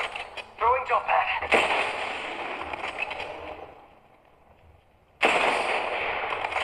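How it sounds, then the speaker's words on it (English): Gunfire in the mobile battle royale game Apex Legends Mobile: dense bursts of automatic weapon fire with a brief lull partway through, loud and continuous, mixed with game sound effects. "Enemy fire."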